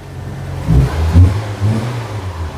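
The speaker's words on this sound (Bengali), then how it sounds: "পুশ স্টার্টের ব্যবহার করা হয়েছে একটু স্টার্ট দিয়ে দেখাই" A Nissan Juke is started with its push-start button: a short crank catches into a brief rising rev, then settles into a smooth, steady engine hum, recorded close by with no speech.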